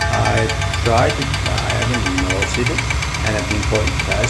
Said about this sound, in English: metallic grinding and rattling sound, kind of loud noise from engine and transmission area.